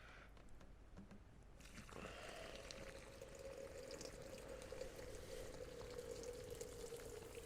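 Filtered maple syrup concentrate pours in a steady, continuous stream, a soft liquid rush that holds evenly from start to finish after a brief quieter moment at the opening.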